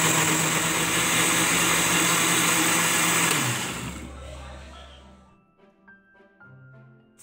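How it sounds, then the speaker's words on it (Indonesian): A blender whirs loudly and steadily for a few seconds, blending steamed ingredients, sugar, salt and coconut milk until smooth, then winds down and stops, leaving faint clinks and quiet room noise. "Kemudian blender hingga halus."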